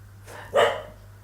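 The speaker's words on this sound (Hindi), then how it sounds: "टक्कू भौंक रहा है" A single short bark from Takku the dog, mid-distance and fairly clear over a steady low background hum, with silence around it at night.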